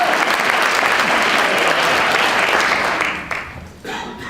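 Audience applause at a theatre panel discussion, with loud, sustained clapping from a crowd that fades out over the last second or so, leaving a quieter room.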